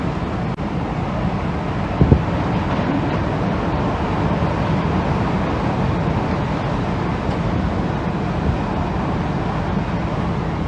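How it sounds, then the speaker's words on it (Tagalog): Powerful Typhoon Ulysses wind roars steadily outdoors, a dense continuous rush with microphone buffeting at a loud, even level and one brief knock partway through. "Ang lakas po nung hangin"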